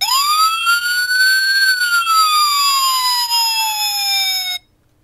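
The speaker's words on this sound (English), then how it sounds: "There are other sounds that are good, like listen to the siren." A police siren wails loudly, sweeping up and slowly down in one long continuous tone before cutting off abruptly.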